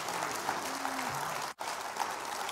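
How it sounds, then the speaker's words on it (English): A church congregation applauds steadily, a soft wash of clapping from a room full of people heard at moderate distance, briefly cutting out for a moment midway before resuming. "give her applause one more time."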